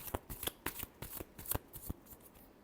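Tarot cards being shuffled by hand, a series of crisp, quick riffles and slaps in an uneven rhythm, close and fairly quiet, with pauses between bursts.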